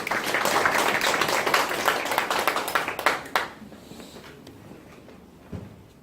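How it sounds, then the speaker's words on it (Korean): An audience at a training lecture claps to welcome the lecturer in a dense burst of applause lasting about three seconds, which then stops abruptly and leaves a quiet room with a few faint knocks. "그럼 우재식 박사님을 큰 박수로 맞아주시기 바랍니다"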